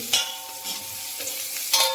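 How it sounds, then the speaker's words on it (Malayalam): Onion and coriander leaves being stirred in a pan, with a few quick scraping strokes of the spoon over a light, continuous sizzle. "മല്ലിയില ഇട്ടിട്ട് നല്ലോണം നമ്മൾ ഇളക്കിയ ശേഷം"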